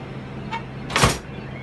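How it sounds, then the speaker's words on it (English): A cash box slides at an angle into a WMS Blade BB3 slot machine set up for home use, ending in one short, firm scraping thunk against a quiet background. "Now, the cash box goes up at an angle, slides in, you'll hear that."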